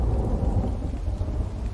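Thunderstorm in the survival game Infected as lightning strikes a floor: a steady roll of loud, low thunder and heavy rain fills the whole moment with a continuous rumble and no voices.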